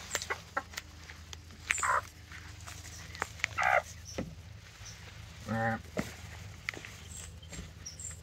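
Farm ducks and a batch of small birds at an off-grid community give scattered short bursts of clucking calls and chirps at moderate distance over a steady outdoor background.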